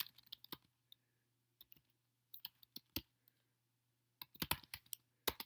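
Fingers type on a computer keyboard in quiet, producing scattered light clicks in short bursts with pauses between them, close and fairly soft.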